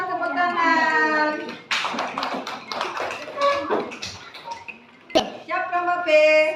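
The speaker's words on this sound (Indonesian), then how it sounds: "tepuk tangan" Schoolchildren in an elementary classroom burst into a round of clapping, a dense patter of small hands amid children's voices and classroom chatter that fades and returns briefly.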